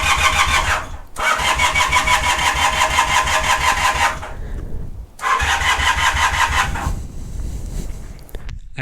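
A 1978 Honda CB250 Twin motorcycle engine cranks over and over without catching, in three long, loud starter bursts separated by brief pauses.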